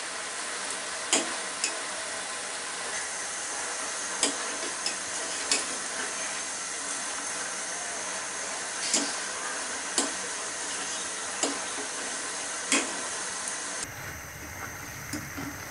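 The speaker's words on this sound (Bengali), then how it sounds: "নাড়ানাড়িটা খেয়াল করেন যাতে সবগুলা ঠিক মতো ভাজা হয়" Namak para fry in hot oil, a steady continuous sizzle punctuated by regular light scrapes and clinks as the pieces are stirred, close and alone.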